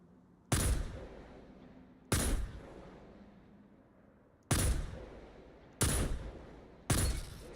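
Hand cannon fire in the video game Destiny 2 on PC, five sharp, loud single shots spaced one to two seconds apart, each with a short decaying tail and quiet between them.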